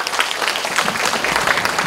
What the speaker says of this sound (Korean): 다시 한번 따뜻한 박수로 축하해 주십시오